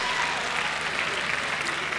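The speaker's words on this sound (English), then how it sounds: "Please be giving him a resounding round of applause." Steady applause from a large audience at a university convocation ceremony, a dense continuous wash of clapping that holds evenly for the whole moment with no gaps.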